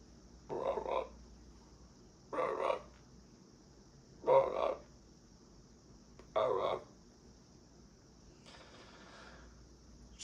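Four low, gurgling frog croaks come at roughly two-second intervals against a quiet background with a faint steady hiss, followed by a softer rasping sound.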